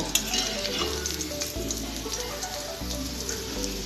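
Pieces of chicken fry in hot oil until reddish brown for barbecue chicken, a steady close sizzle and crackle throughout, with a low hum underneath.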